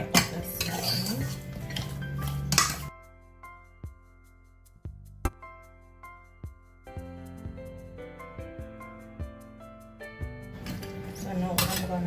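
A spoon stirring Maggi seasoning into stewed beef in a pot, with a run of close metallic clinks and scrapes, quieter in the middle and louder handling at the start and end.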